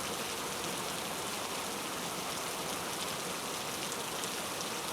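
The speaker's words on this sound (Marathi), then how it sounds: "पश्चिम उपनगरामध्ये पाऊस पडतोय" Heavy monsoon rain in Mumbai pours down in a dense, unbroken hiss, loud and steady throughout.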